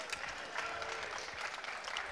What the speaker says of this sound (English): He gets a round of applause